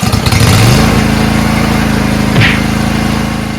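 A riding lawn tractor engine cranks and catches, then settles into a steady, loud, close idle with a rapid rhythmic putter and a brief rev or sputter partway through.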